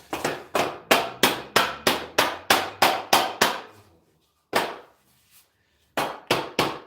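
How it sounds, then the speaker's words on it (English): Sharp metallic hammer blows on aluminium window parts, about a dozen rapid evenly spaced strikes, a pause with one lone hit, then another quick burst of strikes, close and loud. "watching me hammer some aluminium"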